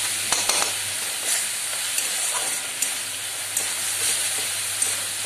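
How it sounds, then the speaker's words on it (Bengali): Egg korma masala fries in a pan with a steady, close sizzle and hiss, broken by a few soft stirring scrapes; no one speaks. "দু মিনিট ভেজে নেব।"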